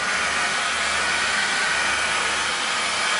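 Heat gun blowing hot air onto film to shrink it, a steady loud whooshing hiss of the fan that holds constant throughout, with no talk.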